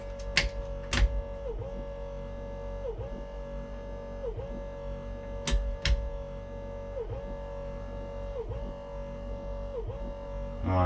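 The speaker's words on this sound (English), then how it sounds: "That noise is the rear wiper, which won't turn off." Rear wiper motor on a classic Mini running on and won't switch off, a faint whirring hum with regular cyclic dips every second and a half or so, with occasional clunks and clicks in the workshop.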